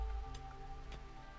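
Rain falls steadily in the colony-building game RimWorld as a soft, even hiss of drops with faint water noise and a low background hum, with no talk.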